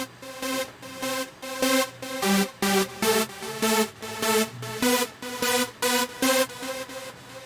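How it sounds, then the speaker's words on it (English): A Sylenth1 synth lead in FL Studio plays a rhythmic, pulsing melody of short bright notes, each repeated by a stereo delay that bounces between left and right, loud and alone with no voices. "As you can hear, you have the delay effect going from left to right."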